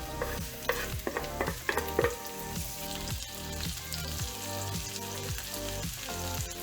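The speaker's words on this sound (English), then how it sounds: "To this, we add thinly sliced onions and also add the tamarind to this." Thinly sliced onions with mustard and cumin seeds frying in oil in a pan, a continuous crackling sizzle with repeated stirring scrapes over background music.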